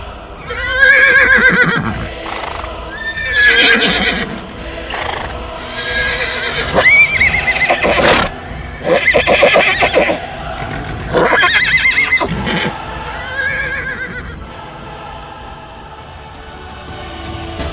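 A horse neighs and whinnies loudly and repeatedly at close range, a series of long shrill calls with short gaps, along with some hoof clip-clop and no speech over it.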